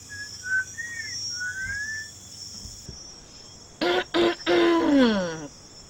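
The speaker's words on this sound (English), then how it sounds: "Did I just hear a whistle?" A person whistles several short, rising and falling tones, clear and fairly close, followed by a few louder bursts of a voice with no clear words.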